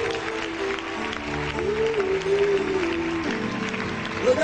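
A church congregation claps in acclaim of the Lord at a prophetic gathering, a steady wash of applause beneath sustained music or voices.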